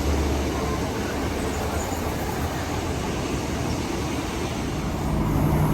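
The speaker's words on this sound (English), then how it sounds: "here's our penultimate train of today to Exeter St David's" Passenger train rolling toward Exeter St David's along the Devon coast near Starcross, a steady loud broadband rumble and rush of wheels on track throughout, with no talking.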